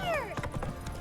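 Horse hooves in The Witcher 3, a quick run of light clip-clop steps under a faint whinny-like tone at the start, close and fairly soft.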